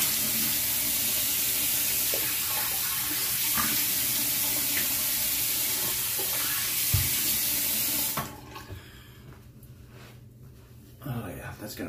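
A tap runs steadily into a sink while someone rinses off after a straight-razor shave, a continuous close hiss that cuts off sharply partway through and leaves quiet room noise with small bumps.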